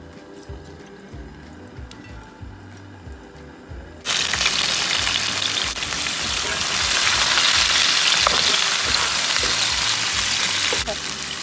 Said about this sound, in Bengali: এই তেল দিয়ে মাছ ভাজছি